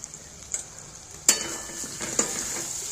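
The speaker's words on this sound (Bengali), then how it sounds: "তো আমি 5-7 মিনিট ধরে ভালো মতো কষিয়ে নিয়েছি আবার সব রকম মশলা দিয়ে।" Raw jackfruit curry with spices and green chillies is sautéed in a pan, soft sizzling under a few sharp metal clinks and scrapes as a spoon stirs against the pan.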